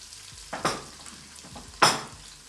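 Onion hits hot oil in a pan for a Bolognese and sizzles steadily close up, with two bursts of louder crackling as the pieces are stirred.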